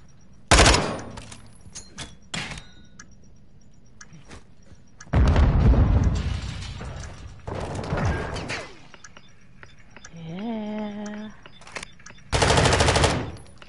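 Bursts of explosive blasts and gunfire in a competitive shooter's final round, loud broadband hits around the bomb site, with several separate bursts spread across the span and quieter gaps between them.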